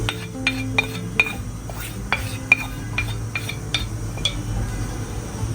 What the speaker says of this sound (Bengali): যেহেতু বিন্নির চালটা নিজে অনেক আঠালো থাকে, এটা কন্টিনিউয়াস নাড়তে লাগবে